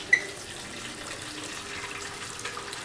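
Hot sparge water at 170 degrees runs steadily over brewing grains, a continuous close splashing rush of liquid with no talk.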